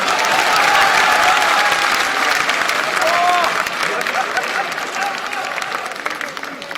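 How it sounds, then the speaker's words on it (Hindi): A political rally crowd breaks into loud, dense applause that rolls on steadily for several seconds, then thins slightly toward the end. "अब इस पे तो कम से कम ठोको ताली।"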